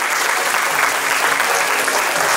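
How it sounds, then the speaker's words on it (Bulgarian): Audience applause at a cake art awards ceremony in Bulgaria honouring a winner, a loud, continuous patter of many clapping hands, close and unbroken, with no voices over it. "Дължим му аплодисменти все пак."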